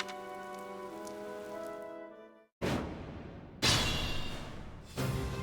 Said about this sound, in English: The rain is really coming down now.